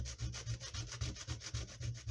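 Powdered pastel stick rubbed back and forth on a small piece of sandpaper, a quick, even rhythm of close, soft scraping strokes, roughly four per second, with no voices.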